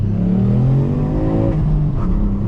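Ford Puma ST with an unmodified 200 hp 3-cylinder turbo engine, a loud close drone that climbs in pitch as it revs, then eases slightly with a steady hum underneath.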